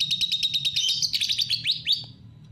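Close and loud, a lovebird delivers a canary-style song: a rapid trill of repeated sharp chips building into a buzzy roll, ending in a couple of swooping downward whistles, with no voices.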